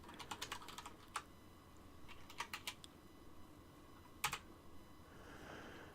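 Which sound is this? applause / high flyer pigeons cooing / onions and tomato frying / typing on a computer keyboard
typing on a computer keyboard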